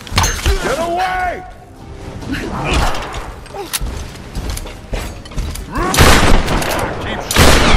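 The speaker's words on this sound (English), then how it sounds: "Keep shooting!" Gunfire rattles in Tomb Raider 2013 game combat, loud bursts of shots and metallic clanks mixed with tense shouting voices and rumbling effects throughout.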